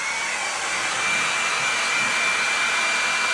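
A blow dryer set to medium heat runs with a steady, loud airy whoosh, drying glue on mahogany linings and a rosewood guitar body; the rush holds even throughout with no talk.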